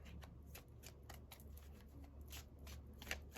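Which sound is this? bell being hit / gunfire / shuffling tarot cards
shuffling tarot cards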